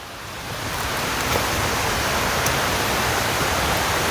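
A steady, dense roar of rushing water fills the scene, swelling in the first second and then holding constant, close and loud, from a waterfall in Doi Inthanon National Park, Chiang Mai, Thailand.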